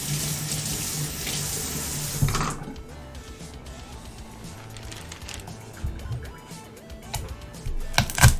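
A kitchen tap runs steadily into a sink while food is rinsed under the stream, a loud rushing flow that drops to a softer trickle and splash, with occasional clatters from handling.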